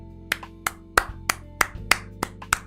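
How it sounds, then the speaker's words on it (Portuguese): Sparse, spaced claps from a studio audience on a Brazilian television variety show, about nine sharp separate hits over a few seconds, fairly close and moderately loud, with no voices. "Aplausos pra galera que escreveu."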